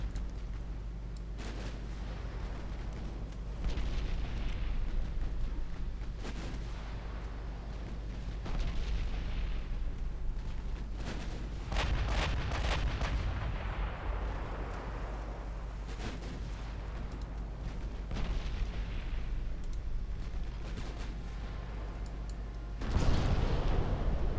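Naval gunfire from destroyers engaging a light cruiser in Ultimate Admiral Dreadnoughts, repeated booming gun reports and explosions at irregular intervals over a constant low rumble of battle ambience.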